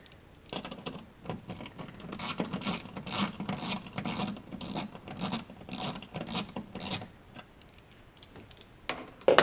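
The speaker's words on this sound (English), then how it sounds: "There's a T20 torque screw that we've got to remove." Close, small scraping and ticking from a T20 Torx screw being worked loose from a Porsche Cayenne panel, in bursts of short rasps with brief pauses, ending on a sharp click.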